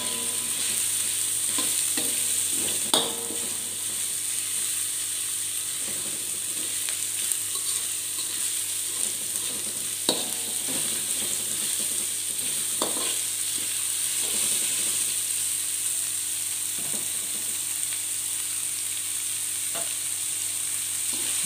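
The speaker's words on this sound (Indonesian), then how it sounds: "Sama kita oseng aja jangan sampai hangus." Green beans stir-fried in a pan for fried rice vermicelli, a steady loud sizzle running throughout with intermittent clinks and scrapes of a spatula stirring the vegetables, no voices.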